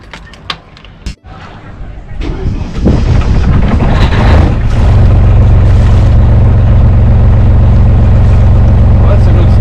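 An outboard motor on a small sailboat idles and then steadies into a loud, continuous drone as the boat pulls away from the dock, with a few knocks and thumps at the start.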